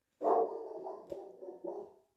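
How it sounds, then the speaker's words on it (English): A dog lets out a short, muffled bark that trails into a low whining growl, nearby and alone. "That's Luna barking"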